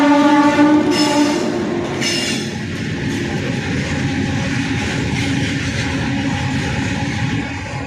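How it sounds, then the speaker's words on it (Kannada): A goods train hauling 49 large wagons on the Chikkaballapur line sounds a loud horn blast at the start, then rolls past close by with a heavy, continuous rumble and wheel noise. "ಮಂಗಳವಾರ ಸಂಜೆ ಸುಮಾರು 49 ದೊಡ್ಡ ಬೋಗಿಗಳನ್ನು ಹೊತ್ತ ರೈಲು ಚಿಕ್ಕಬಳ್ಳಾಪುರ ಮಾರ್ಗವಾಗಿ ಸಂಚಾರ ನಡೆಸಿದ್ದು"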